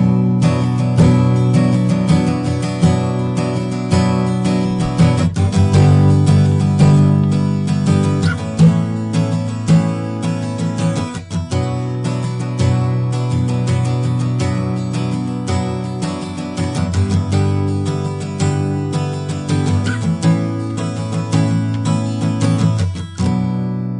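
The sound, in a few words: acoustic guitar recorded with close microphone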